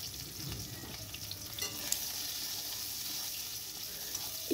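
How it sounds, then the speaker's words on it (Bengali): Sweet potato pieces coated in salt and turmeric fry in hot oil, giving a soft, steady sizzle with occasional stirring scrapes and small crackles. It stays quiet and continuous, with no talk. "নুন আর হলুদ দিয়ে মাখিয়ে ভাজা করলে মিষ্টি আলু ভাজা বেশ মিষ্টি মিষ্টি লাগে"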